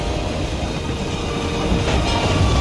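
A moving train in the Hitman 3 video game, Carpathian Mountains level: a loud, continuous rumble with a rhythmic clickety-clack of wheels on rails, heard alone with no talk.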